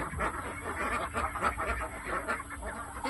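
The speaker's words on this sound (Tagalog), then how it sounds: "Mga bibi." Ducks calling close by, a steady run of raspy honking quacks repeating over a few seconds with no speech.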